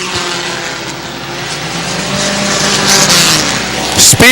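Race cars roar around a short track, a sustained loud engine drone with passing pitch sweeps as cars go by, ending in a sharp close pass.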